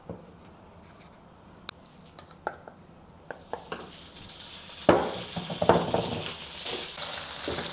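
Beef hits hot oil in a pan for a ginger and scallion stir fry, bursting into a loud, rising sizzle after a few quiet clicks and taps, then crackling steadily up close.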